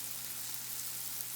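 Bananas frying in a little butter with cinnamon in a pan give off a steady, soft sizzle with a low hum underneath, quiet and even throughout with no talking.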